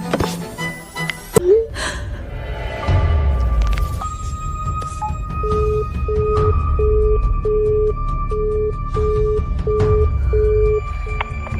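A telephone rings over and over without being answered, its repeated electronic bursts pulsing in a regular pattern over a low background hum after some brief bumps and rustles.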